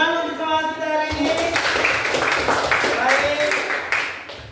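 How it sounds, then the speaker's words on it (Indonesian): Classroom students clap hands in a lively round of applause that starts after a teacher speaks and carries on steadily, with voices mixed in over the clapping. "Oke, tepuk tangan dulu."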